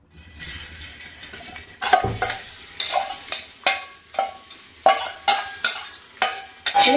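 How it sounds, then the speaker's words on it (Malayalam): Sliced onions stirred in hot oil in a pan for a chicken curry, a steady crackling sizzle broken by repeated scraping strokes of a spoon against the pan. "എണ്ണ ചൂടായിട്ടുണ്ട് കേട്ടോ. പിന്നെ ഇതിലേക്ക് സവാള"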